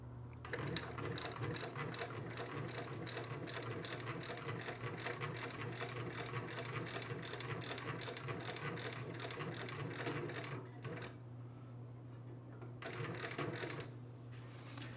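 A cylinder arm sewing machine runs at a fast, even stitching clatter over a steady motor hum, close by and continuous, pausing twice briefly before resuming.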